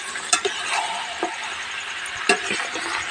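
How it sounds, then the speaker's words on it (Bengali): Duck meat is stir-fried in oil for a Bangladeshi curry, a steady close sizzle broken by a few sharp scrapes and knocks of the spatula against the pan. There is no talking. "বন্ধুরা মাংসটা তো কষাতেই আছি কষাতেই আছি"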